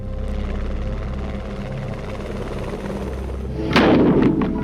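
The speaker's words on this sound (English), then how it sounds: "Helicopters get us in fast." A British Army military helicopter carrying Grenadier Guards drones steadily with rotor thrum, then a louder, rougher burst of noise swells near the end.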